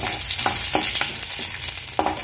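Steady sizzling of curry leaves frying in hot oil, with a few soft crackles and pops scattered through, close and fairly loud.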